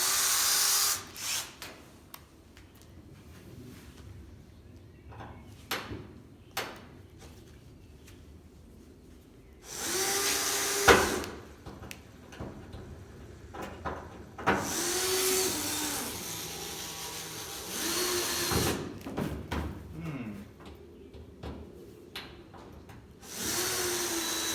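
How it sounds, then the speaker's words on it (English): A power drill works at a stuck fixing on a Land Rover Series 3 safari roof, with several loud whining bursts of varying length separated by quieter pauses full of small clicks and handling noises. "I just need to drill that. See if I can get it with a smaller drill."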